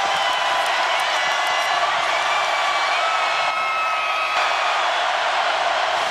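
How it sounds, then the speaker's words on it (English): A football stadium crowd at an Oklahoma Sooners versus Tennessee Volunteers college game roars continuously in a loud, dense wall of cheering that holds steady throughout. "And now the crowd in a frenzy"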